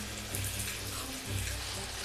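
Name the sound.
water being poured into tarantula enclosure corners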